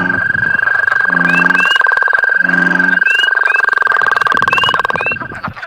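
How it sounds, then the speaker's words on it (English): Dense night chorus of many frog species calling from a real pond in egg-laying season: a constant shrill trill underneath, overlapping low croaks and rhythmic pulsing calls, with sharp chirps scattered on top, loud and close. "This is the sound from a real pond, taken at nighttime during egg-laying season for frogs."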